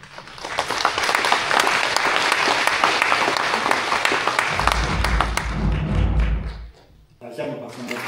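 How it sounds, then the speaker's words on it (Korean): A church congregation claps steadily at a military Christian fellowship's 68th anniversary thanksgiving service at the Armed Forces Central Church. The dense applause fills the hall, dips briefly near the end, then resumes more thinly. "다시 한번 박수 한번 주십시오."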